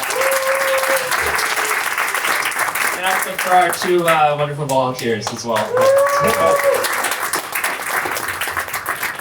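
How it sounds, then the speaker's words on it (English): Audience applause at a creators and founders panel at Boston University, a steady round of clapping running throughout while a person speaks over it near the middle. "I just want maybe if you want to give a round of applause, please."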